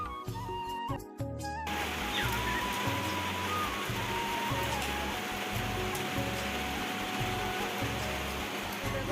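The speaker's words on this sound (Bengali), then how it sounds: "এখন বৃষ্টি পড়ছে" Steady rain pours down in a dense, continuous hiss, with a low rumble underneath and a few faint tones at the very start.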